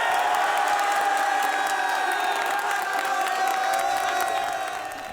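A high school student section roars at a Friday night basketball game, a loud, sustained wall of cheering, shouting and whooping that fills the gym without a break and eases off slightly at the very end.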